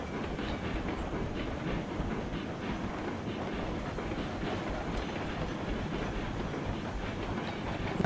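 A steam train in Railroads Online labors up a hill, its steady rumbling chug and clattering wheels filling the scene continuously and loudly with no voices.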